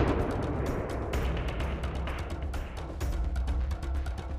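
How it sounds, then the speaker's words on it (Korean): About 5 g of sodium metal dropped into a water tank explodes with a loud, dense, continuous roar of cracks and booms, broadband and sustained with no talk. "엄청난 폭발음과 함께 하늘로 솟구치는 연기."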